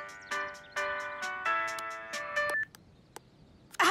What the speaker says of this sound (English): However did that horrid song become my ringtone?